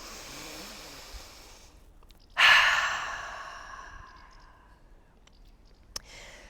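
Deep yoga breathing: a quiet inhale, then a long, loud open-mouth exhale that starts suddenly and fades over a few seconds, heard close with no talking.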